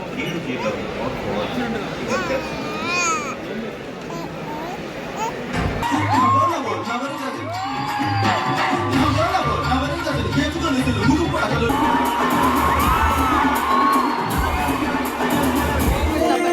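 A packed crowd at a Pawan Kalyan movie celebration in Sudarshan 35mm theater, Hyderabad, whistles, shouts and cheers, swelling into a continuous loud roar with yelling voices throughout.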